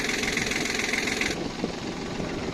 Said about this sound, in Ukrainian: Зараз на паузу зроблю, максимально розкручу.